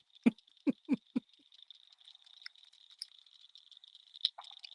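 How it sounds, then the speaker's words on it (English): Bullfrogs croak outdoors at night: four low, faint croaks in quick succession, followed by a thin high steady trill of insects or frogs carrying on in the distance. "I hear the bullfrogs. Jesus, hell yeah, you can hear the bullfrogs."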